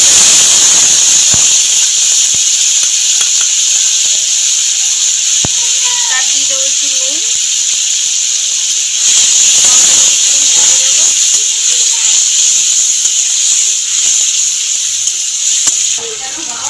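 Grated tomato frying in a pan over tempered spices, a continuous loud hiss with faint clinks and scraping underneath.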